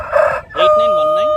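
Rooster crowing at a poultry market in Gudur, preceded by a bird call, then a long, loud, sustained crow close by, with no talk over it.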